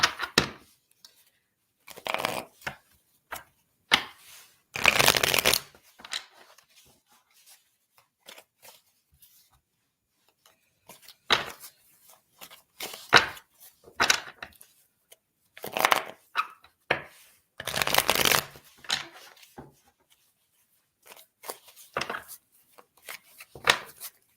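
Tarot cards being shuffled: intermittent bursts of riffling and slapping card noise, close and fairly loud, separated by quiet gaps and small handling sounds.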